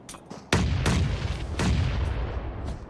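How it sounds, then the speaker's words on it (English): Grenade blasts in a competitive first-person shooter match, several sharp booming explosions in quick succession, the first hitting hard after a short quiet lead-in, with rumbling tails overlapping between blasts. "Battle of nades right now."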